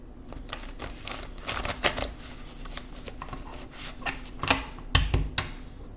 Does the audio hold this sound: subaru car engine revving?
no